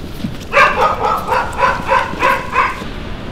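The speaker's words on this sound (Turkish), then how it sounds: "Köpeklermiş. Evet köpekler çabuk." Dogs barking at night in a cemetery, a run of about six quick barks in steady rhythm, mid-distance and prominent over noisy outdoor background.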